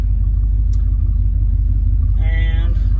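A Chevrolet El Camino small-block V8 idles with a deep, heavy, even rumble close by, while a voice speaks briefly over it toward the end.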